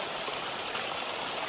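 A small trickling waterfall in the Ozark Mountains makes a steady broadband rush of falling water, continuous and moderately close, with no voices.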